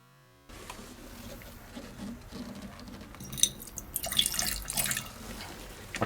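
Water splashes and trickles into a glass beaker during a silver-recovery setup for used relay contacts, a short wet pour that swells for a couple of seconds at close range, with small clinks and no talking.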